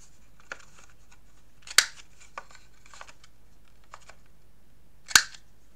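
Scissors snip the corners of a sheet of paper while a scrapbook album page is being made, with two sharp, close cuts standing out among softer paper handling sounds in a quiet room.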